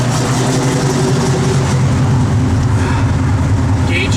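A 1967 Plymouth Belvedere engine idles steadily up close, a loud low rumble that holds constant throughout with no revving.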